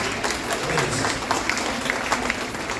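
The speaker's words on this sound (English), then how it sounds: "We're gonna give you a big round of applause" An audience gives sustained, dense applause to welcome newcomers standing up at a science talk. The clapping is steady with a faint murmur of voices mixed underneath.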